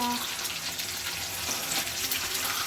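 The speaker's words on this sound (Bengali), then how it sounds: "এই যে ভাজা হচ্ছে" Chicken pieces frying for restaurant-style Chicken Manchurian, a steady bright hiss and crackle of hot oil holding evenly for a few seconds, with no one talking over it.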